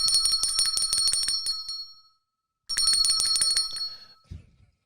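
A hand bell rings rapidly at home in two bright, jangling bursts separated by a short silence, followed by a faint thump near the end.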